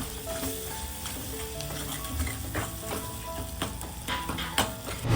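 Tomato cooking with turmeric, salt and homemade Agri-style masala in a pan: steady close sizzle and crackle with repeated scraping strokes of a spoon across the pan, no voices.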